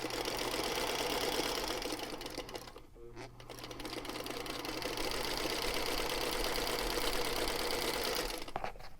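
A sewing machine hums and rattles continuously as it chain stitches scrappy quilt pieces, a steady close mechanical drone with one brief pause near the middle before resuming.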